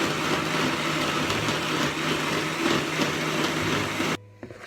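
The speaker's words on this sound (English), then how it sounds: "And then you just blend it in the blender for around I don't know, 2-3 minutes." A countertop blender runs steadily on medium speed, whirring through almond milk with a loud, continuous motor hum that cuts off abruptly near the end.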